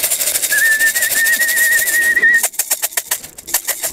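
Racing pigeons at their loft, soft cooing and bird calls over a bright steady whistle that cuts off, followed by a run of sharp repeated clicks or flutters; loud and close, no voices.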